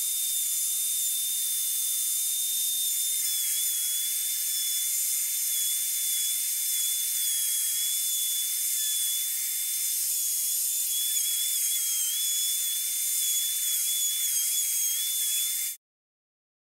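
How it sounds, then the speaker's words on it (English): A drill press bores relief holes into a Les Paul guitar body, giving a steady, high, whining spin with a continuous airy hiss that runs unbroken for about sixteen seconds and then cuts off abruptly. "I'm going to take this to the drill press and actually drill down so I've got some relief holes"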